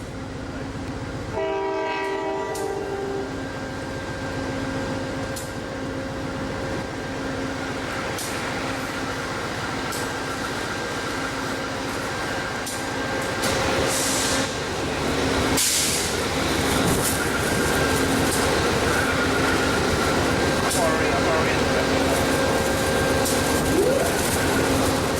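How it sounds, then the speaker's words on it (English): An Amtrak Northeast Regional train pulls into a Metro-North New Haven Line station on Track 4, with a loud horn blast near the start and a steady rail rumble that grows as it rolls closer. "Over a few tracks on Track 4, Amtrak Northeast Regional 82 came in at"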